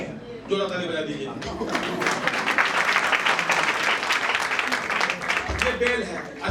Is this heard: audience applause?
yes